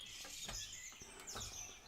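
Birds chirp outdoors in faint high tweets against a dense hiss of background noise, with a few soft knocks and no talk.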